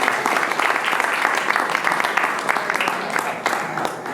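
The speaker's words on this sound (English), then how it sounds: "Make a round of applause." Audience applause at a live debate comedy show in Los Angeles, dense steady clapping from a crowd throughout, loud and close, with a voice talking over it.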